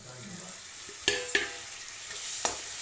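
Onions and tomatoes stirred and fried in a pan over medium flame for cabbage sabzi, a soft sizzle broken by three or four sharp spatula scrapes, close and without speech.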